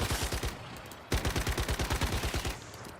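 Automatic gunfire in a shooter video game: two rapid bursts of evenly spaced shots, loud and close, the first short and the second running about a second and a half before stopping.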